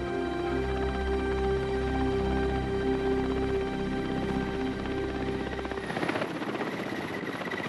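A helicopter flies overhead above Siberian tiger habitat, its steady rotor thump and engine drone loud and continuous, shifting into a rougher, choppier texture near the end.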